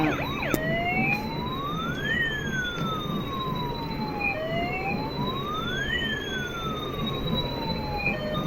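An ambulance siren wails in steady rising and falling sweeps, loud and close, over a constant layer of background noise.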